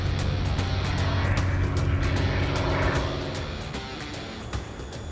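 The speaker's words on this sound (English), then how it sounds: "We also have planes through Katmai Air that are dedicated to the lodge" A Katmai Air lodge plane idles at Kulik Lodge in Alaska, its propeller engine droning steadily at moderate distance and easing slightly toward the end, with no voices.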